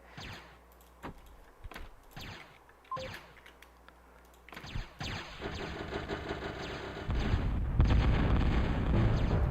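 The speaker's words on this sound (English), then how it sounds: "Just had to get the bombers out and drop the bombs on the carriers." In the ProTA strategy game, bombers drop bombs on enemy carriers: sharp scattered impacts and clicks build into a dense, loud run of overlapping explosions that grows heavier toward the end.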